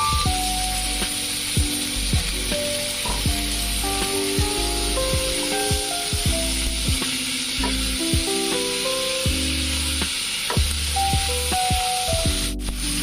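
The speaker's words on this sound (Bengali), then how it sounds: "এই দেখুন আলুটা দেওয়ার পরে আমি 2 মিনিট মতো ভেজে নিয়েছি এটাকে।" Potatoes frying in a pan with vegetables and salt, a continuous close, bright sizzle running steadily throughout with occasional small clinks and scrapes, no talk.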